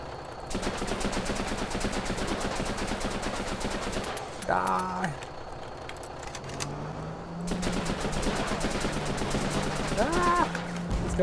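Rapid automatic rifle fire in the video game Running with Rifles, long bursts of close shots rattling through most of the stretch with short pauses, and a voice speaking briefly between bursts.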